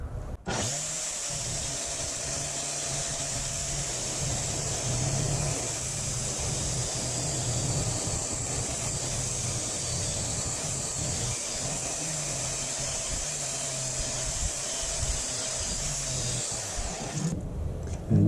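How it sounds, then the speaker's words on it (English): An angle grinder fitted with a coarse abrasive flap wheel shapes a wooden spindle for an antique spinning wheel, giving a continuous high whine with a rough grinding rasp that runs for about seventeen seconds before stopping. "the tool I use to shape it is just an angle grinder with a coarse abrasive flap wheel"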